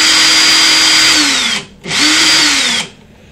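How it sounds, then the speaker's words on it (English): An 18-volt cordless drill in screwdriver mode on its slide speed setting whirs loudly in two long bursts, pitch sagging as it bogs down near the end of each run, with a short pause between. "18 volt cordless drill is on screwdriver mode"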